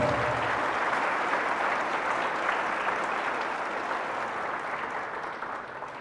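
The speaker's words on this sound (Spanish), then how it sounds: "Fuertes aplausos a la palabra de Dios" Loud, sustained applause from a church congregation after a priest's sermon reading, a dense wash of many hands clapping steadily for six seconds and easing slightly toward the end.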